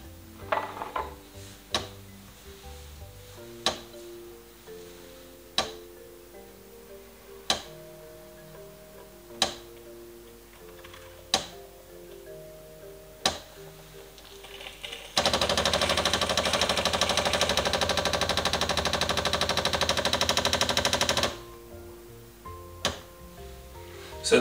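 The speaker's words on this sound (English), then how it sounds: "So the noise you're hearing there is the pump that's building up the bar pressure" Tassimo Finesse coffee machine running its pump to build brewing pressure, a steady loud whirring hum that fills several seconds after a series of sharp mechanical clicks and ticks.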